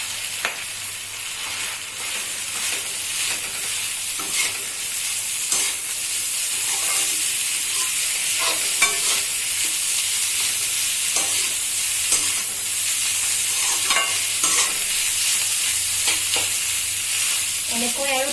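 Rice being fried in a pan with fish oil for a sponge gourd and local fish dish, a steady broadband sizzle running throughout with scattered scraping stirs of a spatula, close and fairly loud with no talking.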